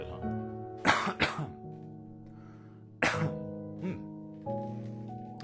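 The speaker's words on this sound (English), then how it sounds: "Let me, try to clear my throat a little bit," A man clears his throat close to a binaural microphone: two quick rough bursts, then a pause, a stronger hack and a softer follow-up, with a faint steady hum underneath.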